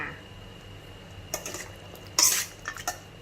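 Chinese sausage salad with cucumber and shallots being tossed in a bowl, with a few soft clinks and scrapes of a utensil against the dish, quiet and brief.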